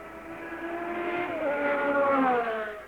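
Race cars at the 1968 Le Mans 24-hour race sweep past, a loud sustained engine whine rising and shifting in pitch as they approach and pass.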